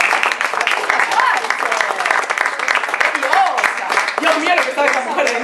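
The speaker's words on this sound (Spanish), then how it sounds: "Un aplauso para la psicóloga del doctor Colmillot" A crowd applauding and cheering continuously, loud and dense, with voices mixed into the clapping throughout.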